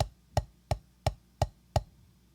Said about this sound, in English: we're going to do 1 set of singles and 1 set of doubles